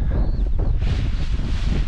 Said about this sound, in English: Ooh, see, it's quite windy.